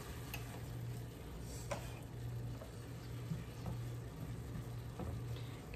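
Butter melting and sizzling in a pan that was used for cooking shrimp, a steady soft crackle and hiss with faint clicks, close and continuous with no voices.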